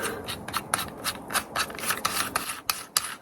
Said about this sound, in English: now, just going to loosen this chuck